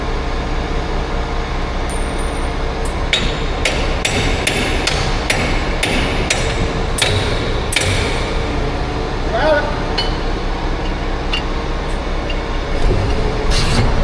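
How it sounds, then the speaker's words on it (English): A small hammer strikes a hitch pin on a grain cart during a wheat harvest, with a quick run of sharp metallic blows in the middle and a few more at the end, over steady outdoor machinery rumble. "Hey BJ, you got a pretty small hammer."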